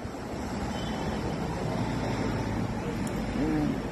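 Wind blowing steadily outdoors, a broad constant rush with low rumble throughout, heard close and at moderate level without clear talk.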